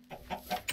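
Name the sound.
chicken clucking in a survival video game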